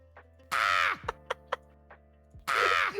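A person imitates a crow, giving two loud, harsh caws separated by a few short clicks and faint mouth sounds, close to the microphone in a quiet room.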